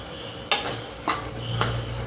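Beef keema frying in a pan, a soft continuous sizzle broken by three distinct scraping stirs of the spoon at roughly half-second intervals, close and clear with no talking.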